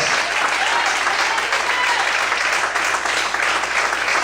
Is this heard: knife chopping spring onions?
no